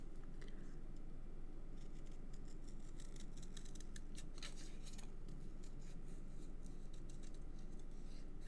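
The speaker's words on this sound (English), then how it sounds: "I've got to cut down there." Scissors snip through card in a crafting session, a steady run of dry rasping cuts with quieter rubbing between them, close and fairly soft with no talk.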